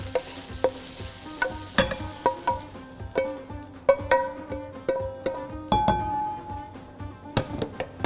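Broth coming to a boil in a pot while spinach pie is prepared, heard as bubbling and sizzling with scattered clinks of utensils against cookware, fairly close and steady with no talk.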